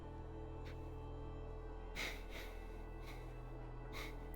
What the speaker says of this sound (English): you're gonna hear me like breathing.